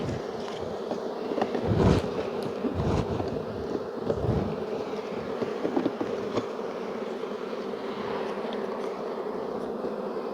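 Honeybees buzz steadily around an open hive during an inspection of a colony preparing to swarm, with close passing buzzes over a continuous hum and a few soft handling bumps.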